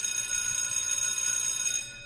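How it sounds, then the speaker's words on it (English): A bright bell rings with a sustained, shimmering metallic tone that holds steady for about two seconds before cutting off. "I love this bell"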